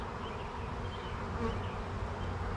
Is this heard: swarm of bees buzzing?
yes